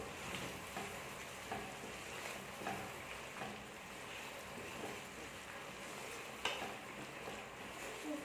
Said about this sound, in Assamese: আগতে এই মছলাখিনি ভালদৰে লৰাই লওক।